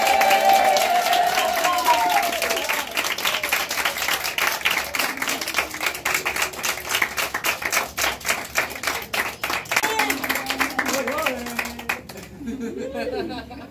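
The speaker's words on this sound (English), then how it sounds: "this is the Delta Max Belarusian clap game" A crowd at a women's tournament event in Courcelles-Sur-Seine, France plays a Belarusian clap game, rapid rhythmic handclaps quickening into dense applause, with laughter and chatter mixed in and the clapping dying away near the end.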